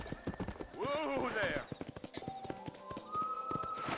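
Horse hooves gallop in Red Dead Redemption with a rapid, even clip-clop close by, and a loud whinny rises partway through before the hoofbeats carry on.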